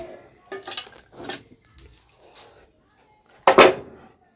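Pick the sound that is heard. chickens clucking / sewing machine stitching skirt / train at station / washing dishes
washing dishes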